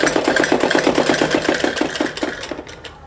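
A sewing machine stitching patiala salwar fabric, rapid regular needle clatter running steadily and close before slowing and fading out at the end.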